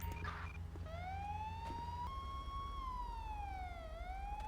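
Police car siren from the video game GTA LSPDFR, a single clear wailing tone that sweeps up and down, steady and fairly close over a low engine rumble, with no talking.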